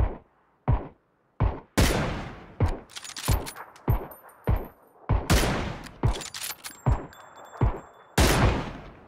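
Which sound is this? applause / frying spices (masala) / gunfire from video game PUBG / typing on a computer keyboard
gunfire from video game PUBG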